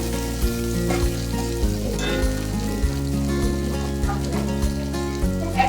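Chopped tomatoes with green chillies sizzle and crackle steadily in hot oil in a pan for a fish dopiaza, with a continuous frying hiss and occasional soft stirring knocks, close and alone without talk.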